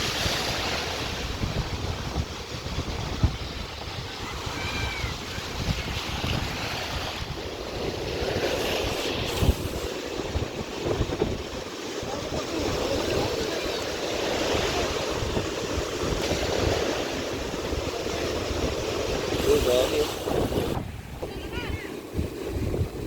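Sea waves wash along a shore while wind buffets the microphone, a steady broadband roar throughout with voices talking over it.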